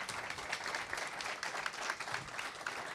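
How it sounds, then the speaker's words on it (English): An audience applauds panelists at the close of a panel discussion, steady dense clapping at moderate distance, even and unbroken throughout. "a big round of applause for our panelists"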